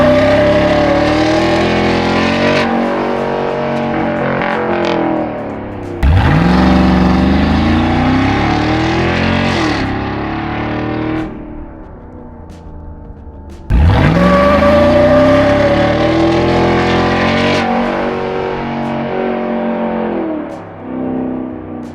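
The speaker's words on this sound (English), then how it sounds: "I'm gonna just try to burn out right here." A 2014-or-later GM pickup truck engine revs hard and loud during a burnout, rising and falling in long surging bursts with a gritty, roaring exhaust tone and a couple of brief drops between.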